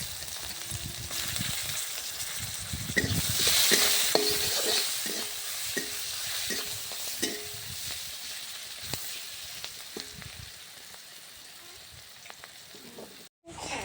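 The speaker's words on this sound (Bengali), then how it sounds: "এবারে একটা পেঁয়াজ কুচি দিয়ে দেব।" Chopped onion hits hot oil with whole cumin, dried red chillies and bay leaf, bursting into a loud sizzle that settles into steady frying with a series of sharp stirring clinks against the pan.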